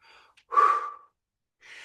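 A single heavy breath during an upper body workout, one strong exhale in the middle with softer breathy sounds before and after, close and alone.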